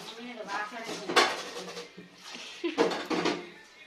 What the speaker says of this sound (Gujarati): અહીંયા મમ્મી વાસણ ધોવે છે